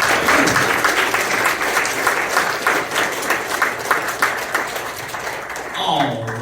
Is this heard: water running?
no